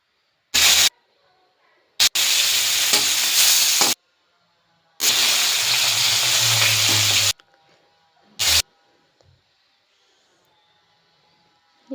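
Fish frying in a pan for ucche alu macher jhol gives loud bursts of hissing sizzle. The bursts start and stop abruptly with silent gaps between them.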